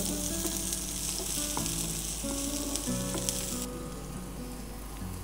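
Garlic frying in a pan for chicken soup gives off a steady, close sizzle with faint stirring, and no voices are heard.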